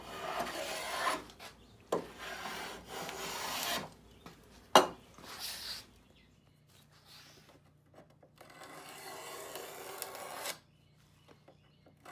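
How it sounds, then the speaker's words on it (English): Wood trim being hand-shaped with a block plane, a scraper and sandpaper, producing close, repeated rasping and rubbing strokes in bursts separated by brief pauses, with one sharp knock partway through. "with a combination of the block plane, the scraper, and a lot of sanding, I'm going to finalize the shape of the trim"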